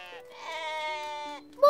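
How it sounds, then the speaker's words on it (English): A sheep gives one drawn-out, wavering bleat, close and clear, in an animated children's cartoon; a voice breaks in right at the end. "Oh! Sheep! There are sheep outside."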